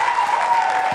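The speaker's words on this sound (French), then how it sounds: "maximum d'applaudissements pour Chaleur, s'il vous plaît." An audience applauds in a steady, dense wash of clapping that runs through the whole short moment with no break.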